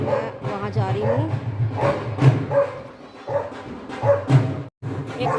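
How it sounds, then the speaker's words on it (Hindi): Max, a pet dog, barks and yips repeatedly in short bursts close by, mixed with someone talking over much of it. "इतना भौंके जा रहा है"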